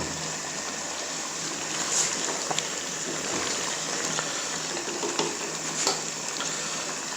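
Oil poured into a pot of green chilies while cooking chicken feet sets off a steady, soft sizzle and crackle, with occasional small pops over a low, even hiss.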